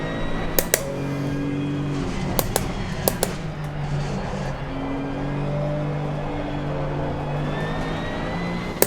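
A Porsche 911 GT2 race car in the Assetto Corsa Competizione racing game, its engine droning and rising steadily through gear changes, with sharp clicks breaking in now and then and no talk.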